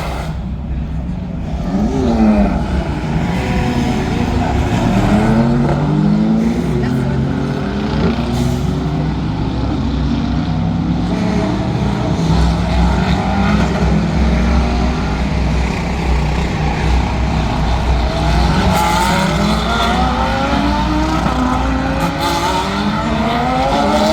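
GT World race cars, including a Ferrari, pass at the Paul Ricard circuit, loud engines rising and falling as several cars rush by one after another, with voices faintly heard under the roar.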